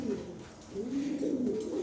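A pair of high-quality racing pigeons coos nearby in low, throaty rolling calls, two overlapping warbling phrases rising and falling across a short stretch, with no voices.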